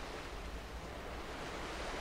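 Ocean waves in the video game Mourning Tide make a steady, soft wash of surf with a windy hiss. The sound is faint and continuous, and no one speaks.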